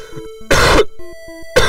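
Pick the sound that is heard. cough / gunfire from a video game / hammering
cough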